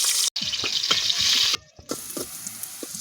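Onion frying in a pot for bottle gourd curry: a steady hissy sizzle with water-like rushing and clinks of stirring, briefly cut off midway, then a quieter sizzle resumes.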